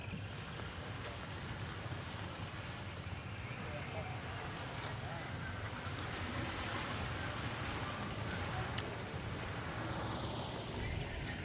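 A waterfall in Bogor, Indonesia, gives a continuous broad rushing roar, steady and fairly distant, with a faint gusty edge throughout.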